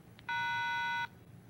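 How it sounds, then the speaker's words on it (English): A 1995 Motorola flip-style pocket cellular phone gives a faint short blip, then one steady electronic beep lasting under a second as Recall and Pound are pressed, alone against quiet room tone. "you can call it up by pressing Recall and Pound."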